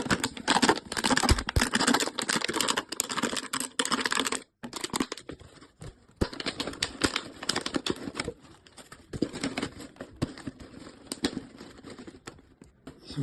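Material is being cut to fit an air conditioner's hot-air exhaust, heard as close, rapid, irregular clicking and snipping in bursts with short pauses between them.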